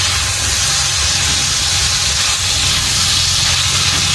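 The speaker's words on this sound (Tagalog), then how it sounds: "ginigisa na natin itong ating ampalaya" Bitter gourd (ampalaya) sautéing in hot oil in a pan, a loud, steady, broad sizzling hiss that continues unbroken from start to finish, close with no talking.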